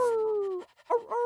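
A cartoon dog lets out a drawn-out, wavering whimper followed by a short second whine, close and clear with no talking.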